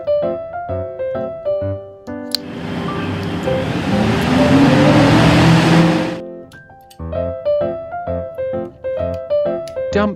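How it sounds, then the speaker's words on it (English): Toy rigid dump truck driving, a loud rushing, roaring engine-like noise lasting about four seconds, set between stretches of bright tonal music. "Rigid dump truck."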